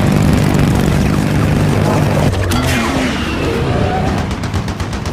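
Fighter jets attack two giant monsters in a scene from the 2018 film Rampage, with loud aircraft roar, booms and gunfire-like bursts, a sudden blast midway, then a thinning rumble.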